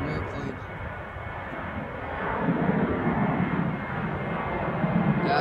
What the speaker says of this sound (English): Oh wow, look at this, an airplane.